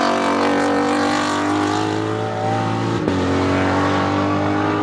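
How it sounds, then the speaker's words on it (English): A Ford Mustang race car roars around the track at Mid-Ohio during practice, its engine a loud, sustained drone with shifting pitch as it passes, with no talking. "Mustang out on track"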